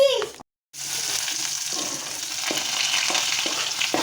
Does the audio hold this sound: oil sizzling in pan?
yes